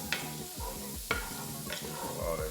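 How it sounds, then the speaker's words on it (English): Garlic and onions stirred in a pan for green beans and potatoes, with rhythmic scraping strokes of a utensil about once a second over a soft, quiet sizzle. "insert the garlic inside and stir for about 3 minutes"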